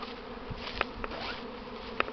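Swarming honey bees during a spring swarm buzz steadily in a dense, droning hum, with a few louder individual bees passing close by at intervals.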